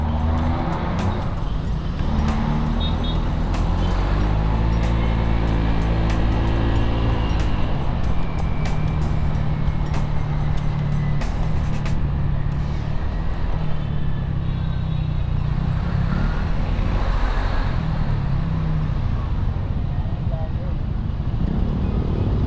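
Heavy Christmas-season road traffic on a ride from Caloocan to Quezon City, a steady wash of car engines and passing vehicles with rising and falling engine drones, while a person talks over it.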